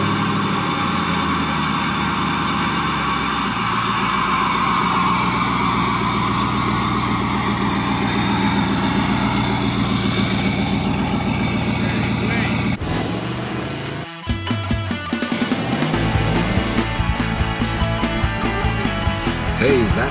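A 1957 Chevy Wagon engine runs steadily with a low, heavy drone as the car is pulled out, loud and close throughout, joined partway through by clattering and shifting noise.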